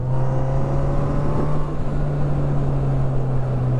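A Honda CB1000R Black Edition motorcycle holds fifth gear at steady speed, its engine a loud, continuous low drone with a strong constant hum and rushing wind, easing slightly partway through.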